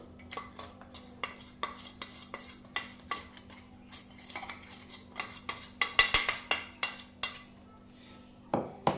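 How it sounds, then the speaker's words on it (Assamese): A spoon stirs semolina cake batter flavoured with cardamom powder in a bowl, giving a run of quick metallic clinks and scrapes that speed up toward the end, close and fairly quiet. "এইখিনি এতিয়া ধুনীয়াকৈ মিক্স কৰি ল'ম।"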